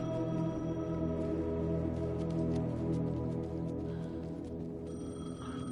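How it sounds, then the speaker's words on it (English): An old-fashioned bell rings steadily and continuously from a payphone in the video game Alan Wake II, moderately loud against a low ambient drone, with no talking. "The payphone was ringing."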